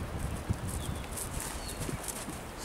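A calm dapple-grey horse walks across an uneven paddock, its hooves making faint, irregular soft thuds close by with no voices.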